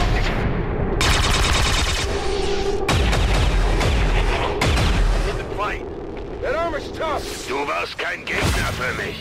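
Loud bursts of rapid gunfire and heavy booms in the video game XCOM 2: War of the Chosen, dense and chaotic, with sharp cracks continuing as the barrage thins toward the end.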